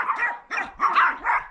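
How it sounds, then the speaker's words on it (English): Vicious dogs on the Camino del Norte in the Asturias region near Soto de Luina bark in four sharp, rapid bursts, close and loud with no talking. "And the vicious dogs."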